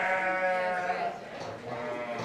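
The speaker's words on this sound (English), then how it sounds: "And a sheep lambing right on cue, Lizzie" A sheep bleats during lambing on a Scottish farm, one long wavering cry up close that fades toward the end amid quieter background noise.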